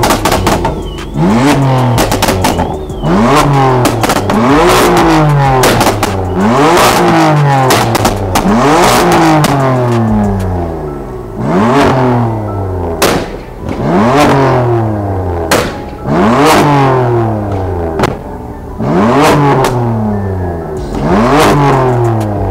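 A Dodge Hellcat SRT engine revs repeatedly at a car meet, loud and close, each rev climbing sharply then dropping back in a steady series of roaring pulls.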